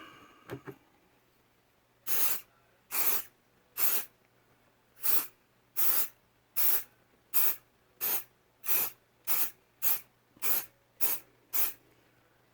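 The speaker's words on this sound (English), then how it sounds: "what I'm going to do now is spray this mold release" A string of short aerosol mold release spray bursts, about fourteen evenly spaced hisses, preceded by a couple of faint clicks, close and fairly loud, sprayed onto a model car body for silicone rubber mold making.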